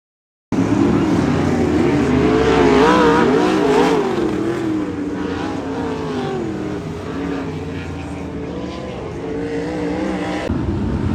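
A pack of 360 sprint cars roars around a dirt oval during a heat race at Keller Auto Speedway, loud continuous engine howl with shifting revving pitches as cars pass, steady and close throughout.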